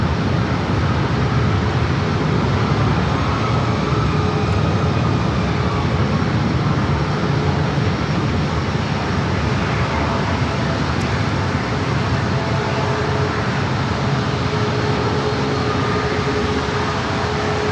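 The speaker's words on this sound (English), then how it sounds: "Alaska Flight 1470 coming in from Chicago O'Hare" An Alaska Airlines Boeing 737-900ER arriving at San Diego airport from Chicago O'Hare, a loud steady jet engine roar and broadband rumble holding evenly throughout, with no talking.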